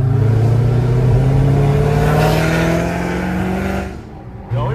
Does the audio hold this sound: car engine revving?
yes